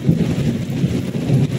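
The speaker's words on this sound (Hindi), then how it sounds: "बादल कैसे गरज रहे हैं" Low thunder rumbles on and off through a heavy downpour, a deep continuous roll under the steady wash of rain, with no voices.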